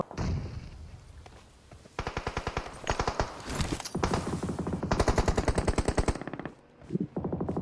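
Automatic gunfire in PUBG Mobile, rapid bursts of rattling shots in repeated volleys, loud and close, with brief gaps between strings of fire.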